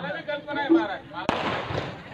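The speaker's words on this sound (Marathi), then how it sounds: "मला कल्पना नाही आज फटाके फोडतील म्हणून" Firecrackers set off at a birthday celebration during a devotional kirtan program: one sharp, loud bang cuts in after a man's speech, then trails into a crackling, rumbling decay while voices carry on beneath.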